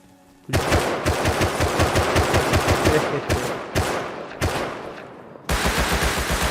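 Loud automatic gunfire in the survival game Rust comes in long rapid bursts of sharp, evenly spaced shots. The bursts are broken by short pauses before the firing picks up again.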